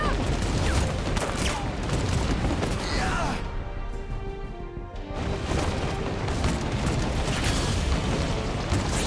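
Video game gunfire pours out in dense, loud, rapid bursts, dropping to a brief lull midway before the shooting resumes at full intensity.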